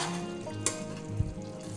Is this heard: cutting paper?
no